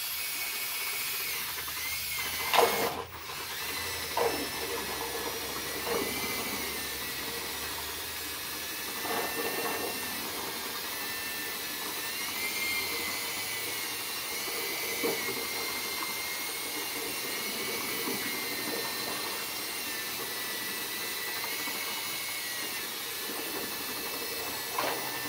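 A drill spinning a small Harbor Freight paint mixer through sugar water for bee feeding, a steady whirring drone with churning liquid, broken by occasional knocks and bumps, continuous for about twenty-five seconds.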